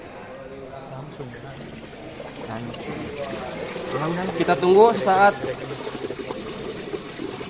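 Bubbling, gurgling water as freon refrigerant from a car air-conditioning system's low-pressure valve is released into a bucket, growing louder midway, with a person speaking briefly over it.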